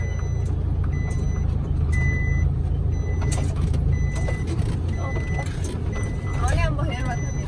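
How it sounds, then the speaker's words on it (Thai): A dump truck's brakes squeal and grind in wavering bursts over a constant heavy engine rumble, with repeated high beeps throughout and a sharper squeal near the end. "เบรกตดเพิ่นแน่นอนเสียงเบรกดังมวน"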